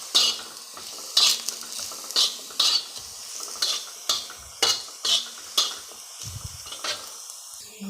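Potatoes fry on a hot tava while being stirred, with a steady sizzle and regular scraping strokes of a spatula, about two per second, close and clear with no voices.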